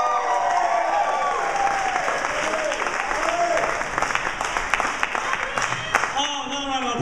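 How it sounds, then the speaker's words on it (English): A comedy contest audience at the finals in The Square Room, Knoxville, breaks into loud, sustained applause and some cheering for the comedians, while a voice speaks over the clapping near the end. "another round of applause for all the comics you've seen tonight"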